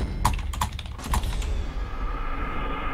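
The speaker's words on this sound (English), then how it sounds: "He's typing in real life. We can hear it over the mic." Someone types on a computer keyboard nearby, quick bursts of clicking keys in the first second and a half, then a softer steady background hum with no talking.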